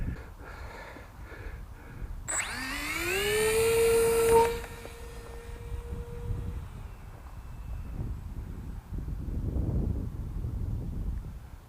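A cheap foam RC plane with a 3S battery launches, its electric motor whining up sharply in pitch, holding a loud high tone, then fading as the throttle closes and wind noise remains.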